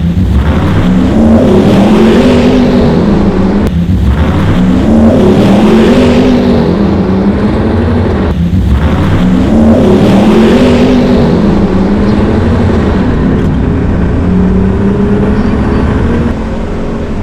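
Two Land Rover Defenders, one with a Chevy LS3 V8 and one with a BMW 330d M57 diesel, drag racing: loud sustained engine roar with repeated rising rev sweeps and gear-change breaks, close and powerful, fading slightly at the end.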